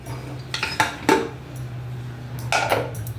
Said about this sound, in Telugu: ఇప్పుడు చూడండి, మూత తీసి చూస్తున్నాను.